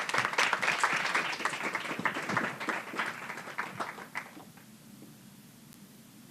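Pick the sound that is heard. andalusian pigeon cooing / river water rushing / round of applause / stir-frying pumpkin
round of applause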